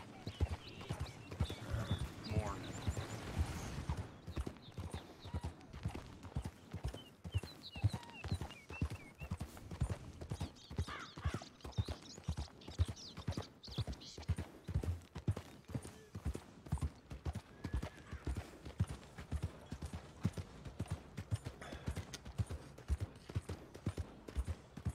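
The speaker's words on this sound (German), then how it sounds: "Auch schöne Pferde hier." Steady clip-clop of horse hooves trotting at an even rhythm in Red Dead Redemption 2, fairly quiet, with a brief whinny-like sound near the start.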